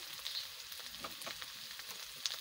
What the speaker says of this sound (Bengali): এখন আমি নেড়ে চেড়ে তেলের সাথে সুন্দরভাবে মশলাগুলো মিক্সড করে নেব।